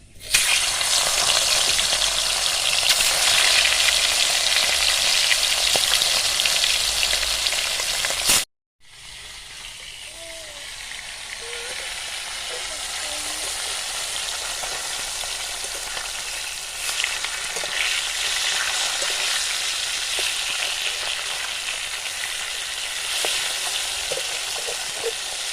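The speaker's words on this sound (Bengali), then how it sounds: "মাছগুলো ভেজে নেব।" Spiced fish pieces fry in hot oil in a kadai, giving a loud, dense sizzle that cuts out briefly, then returns as a quieter, steady crackle and bubbling with no talking.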